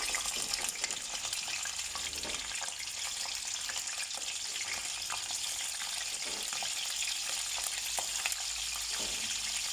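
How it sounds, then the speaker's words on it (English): Dry fish frying in oil over moderate heat, a steady broadband sizzle with scattered crackles and pops that stays loud and even throughout, close to the pan, with no talking. "fry up the dry fish. Not too high heat, so it stays firm in your chutney."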